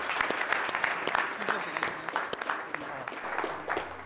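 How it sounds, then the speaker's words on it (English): Audience applause at a gala night awards ceremony in Dubai, a steady wash of clapping from a crowd for award winners, sustained and fairly even throughout with no break. "can we just get one more round of applause for our winners tonight?"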